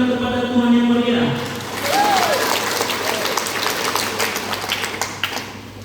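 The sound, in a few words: church congregation applauding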